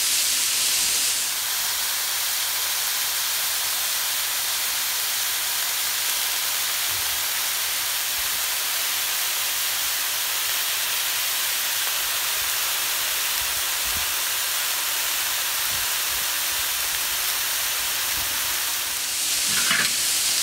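Pork filet mignon sizzling on a hot plancha, a continuous bright frying hiss that holds steady for the whole stretch with faint stirring or scraping near the end, no voices.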